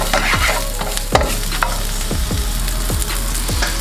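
Peppers frying in a hot pan with caramelized onions, a loud close sizzle broken by a steady series of spatula scrapes and stirs about every half second.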